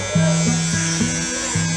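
An electric shaver shaving a head buzzes up close in a steady, droning hum. The pitch steps up and down in short segments as the clippers move across the scalp.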